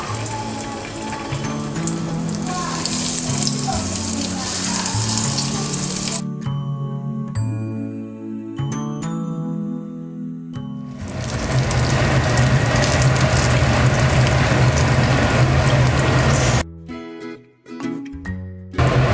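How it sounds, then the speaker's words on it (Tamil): Hot oil sizzles and crackles loudly and steadily as king fish cutlets deep-fry, with a few pauses and some clattering of utensils. "ஃபிஷ் கட்லெட் பொரிக்கிறதுக்கு ஆயில் நல்லா சூடாயிடுச்சு. நம்ம 1 by 1 போட்டுடலாம்."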